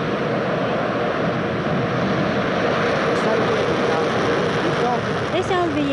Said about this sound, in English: メインエンジンイグニッション。